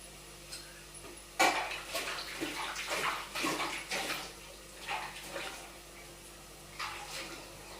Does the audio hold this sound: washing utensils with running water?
yes